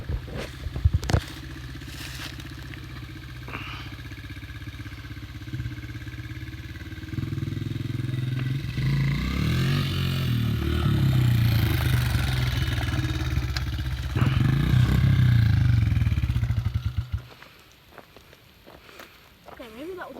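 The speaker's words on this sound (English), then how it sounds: "Friend riding his dirt bike." A dirt bike ridden nearby, its engine revving and surging over rough ground with clattering and rising, falling pitch, then cutting off near the end; occasional voices mix in.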